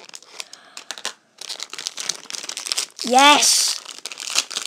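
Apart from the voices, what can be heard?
plastic wrapper of a toy blind bag being torn open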